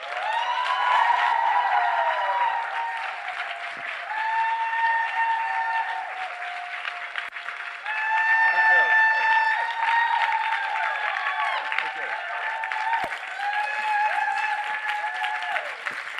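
An audience applauds to welcome speaker Bob Proctor, with steady, sustained clapping throughout and a faint voice over it near the end.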